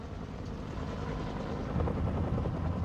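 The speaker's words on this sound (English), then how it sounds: "The flight crews of these early forces were equipped with dozens of Piasecki H-21 Shawnee transport helicopters" A Piasecki H-21 Shawnee tandem-rotor transport helicopter in flight gives a steady, loud rotor and engine drone that holds throughout and swells slightly toward the end.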